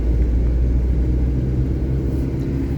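A car on the road from New Delhi to Sariska, heard from inside as a steady low engine rumble with road noise, continuous and fairly loud with no one speaking.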